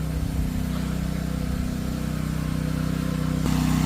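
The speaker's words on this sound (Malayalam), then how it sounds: "ഇവിടെ ഉപയോഗിക്കുന്ന ഹസ്കോണയുടെ തന്നെ എഞ്ചിൻ വെച്ചിട്ടുള്ള സ്പ്രേയറാണ് യൂസ് ചെയ്യണത്." A Husqvarna engine-powered sprayer runs close by while spraying copper sulphate and lime mix on nutmeg and areca trees, a steady droning motor hum that rises slightly near the end.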